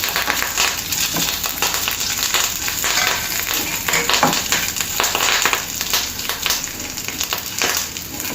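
Curry leaves frying in hot oil for an okra and garlic curry, a loud, continuous close sizzle with crackling pops throughout.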